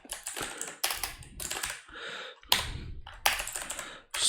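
Keystrokes rattle on a computer keyboard in close, quick bursts with short pauses between runs, sounding near and alone with no voices.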